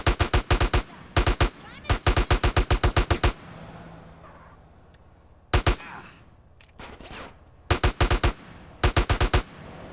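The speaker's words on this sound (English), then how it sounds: "We'll bust out the M4 because, yes. M4 is a superior gun." M4 assault rifle fire in GTA San Andreas: loud, close bursts of rapid automatic shots, several volleys separated by pauses with faint background game ambience between them.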